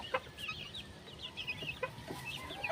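Chickens clucking and squawking in a run of short, fairly close calls as they flap out of their cage.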